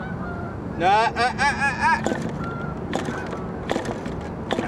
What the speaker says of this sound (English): those geese are coming back here